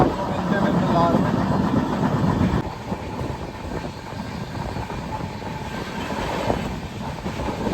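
A Duronto Express train runs at speed, with a loud steady rumble and rushing rail noise heard from inside a coach, easing slightly partway through but continuing throughout.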